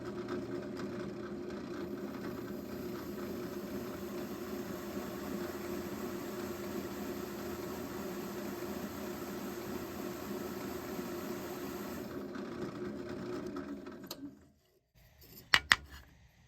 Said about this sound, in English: that's how I'm going to chamfer these edges so that I can run a cleaner into this inside disc.